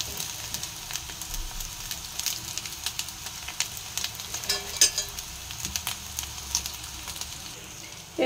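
Cooked rice being fried in a pan with lightly fried egg: a continuous soft sizzle with crackles and occasional scraping stirs, close and moderately quiet throughout.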